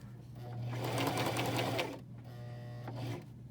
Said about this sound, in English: I'm only gonna sew about 1 centimeter in.